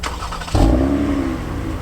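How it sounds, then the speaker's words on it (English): A 2020 Toyota Avalon TRD with a 3.5-liter V6 blips its exhaust in one sharp rev that jumps up loudly, then holds a steady, rumbling idle-like drone close by. "an awesome sounding exhaust"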